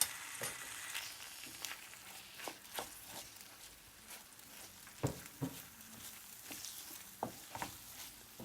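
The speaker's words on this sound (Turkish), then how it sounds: "bir tatlı kaşığı dolusu tuzumu serpip iyi bir şekilde karıştırıyorum" Salted dolma filling being stirred in a pan, a quiet sizzle under soft, irregular scraping and tapping of a spoon, with several sharper clicks scattered throughout.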